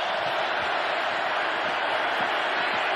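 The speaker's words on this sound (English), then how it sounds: "crowd in full throat right now" Loud, steady roar of a football stadium crowd at an NFL game, Raiders hosting the Chargers on a third-and-five play, a dense continuous wall of cheering and noise with no distinct breaks.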